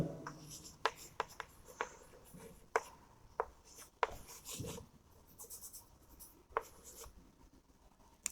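Pen or pencil scratches across paper while the steps of a cam profile construction are written out by hand, a quiet run of short strokes and taps at an irregular pace, close by.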